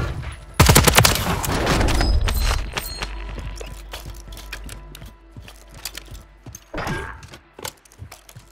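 Call of Duty gunfire opens with a loud, close burst of rapid shots, then trails into scattered lighter cracks and a second burst later on, with some talking in the background.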